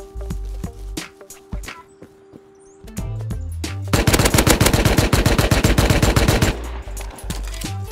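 Video game gunfire rattles out in sharp bursts, sparse single shots at first, then a dense, loud rapid-fire stream before tapering off, with no talking.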